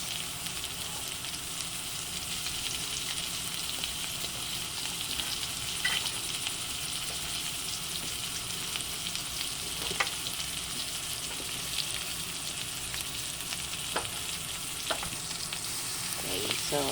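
Garlic and onion sautéing in a frying pan after stir-fried pork is removed, a steady close sizzle with a few sharp crackles and scrapes, no talking over it.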